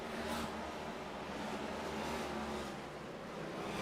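A pack of race cars roars through a dog leg turn during the first lap of an oval race, engines droning loud and steady from start to finish with no break in the noise.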